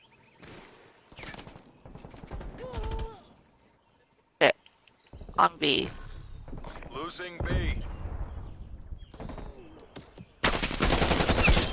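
Gunfire in Call of Duty: Black Ops Cold War, with scattered shots and bursts of game combat, footsteps and a loud sustained clatter at the end, mixed with players talking over it.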